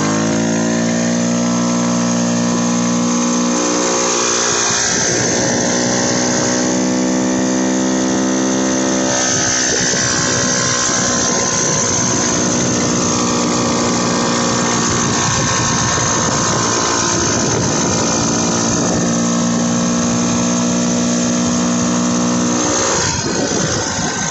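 A Tecumseh 139cc two-stroke engine on a CVT motorized bicycle runs loud and close for the whole stretch, revving up and settling with a buzzy, harmonic-rich drone.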